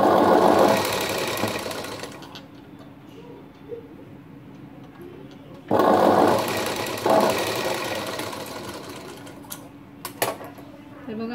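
A sewing machine stitches piping onto a blouse neckline in two sustained runs of steady mechanical whirring, each starting with a loud burst, with a few sharp clicks between runs.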